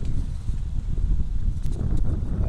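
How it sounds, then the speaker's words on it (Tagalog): Strong, cold gusty wind at a lakeside campsite buffeting the microphone, a loud continuous low rumble with faint rustling, no voices. "Malakas ang hangin, malamig."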